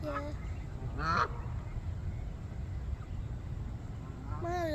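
Ducks and geese at a park lake give a couple of sharp honks, one near the start and another around a second in, with a final honk at the end over steady outdoor background noise.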